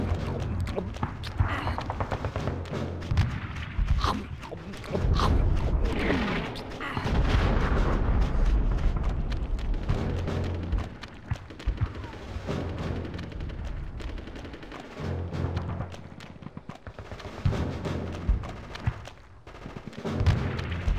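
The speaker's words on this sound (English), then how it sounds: "they just really embraced this shooting thing at the end of this game" Gunfire and explosions in the video game Conker's Bad Fur Day, with heavy booms and bursts of shots rolling through a busy, cluttered mix, fairly loud throughout.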